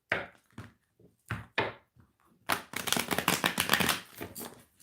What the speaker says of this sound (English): I'm getting one more shuffle.